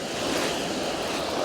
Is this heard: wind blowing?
yes